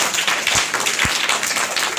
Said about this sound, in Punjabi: ਤਾੜੀਆਂ ਮਾਰੋ ਜੋਤੇ ਲਈ